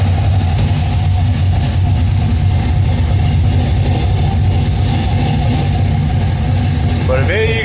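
A cammed 5.3L V8 idles on its first start with a loud, steady, lumpy low rumble throughout, and a brief rising rev sweep near the end.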